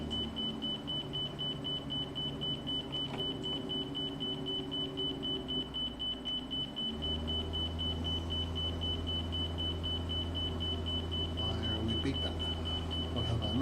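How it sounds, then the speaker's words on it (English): An electronic alarm in a flight simulator gives a steady, high-pitched continuous beep that holds throughout, with a low engine-like rumble underneath. "why are we beeping?"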